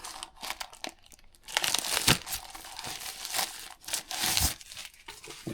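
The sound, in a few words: digging through drone box packaging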